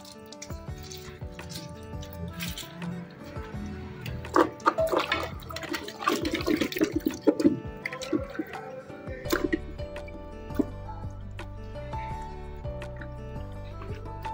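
Running water rinses a pig's head, splashing and gurgling unevenly with irregular bursts of spatter and dripping, close by and without speech.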